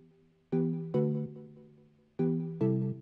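A hyperpop synth melody plays chords in short groups of two, each note ringing out with a soft delay echo tail and spacious reverb.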